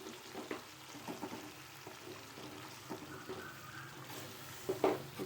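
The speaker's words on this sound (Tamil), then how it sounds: "இந்த ஸ்டேஜில் நம்ம கட் பண்ணி வச்சுருக்க அந்த முட்டையை இதில் போடுவோம்." Chopped boiled eggs going into a simmering, oil-separated egg mass curry in a pan: soft sizzling and bubbling with a few light clinks and stirring splashes, quiet and close, no voices.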